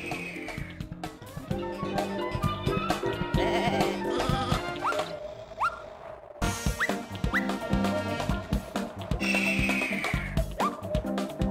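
Cartoonish sheep bleat repeatedly in the Looney Tunes: Sheep Raider video game, several short wavering baas rising over game music and effects, loud and close with no talking.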